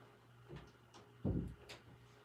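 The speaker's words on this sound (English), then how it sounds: "I'll close the door so that the noise doesn't bother us." A single muffled thud of a door being shut, preceded by faint shuffling and followed by a light click, all quiet and close.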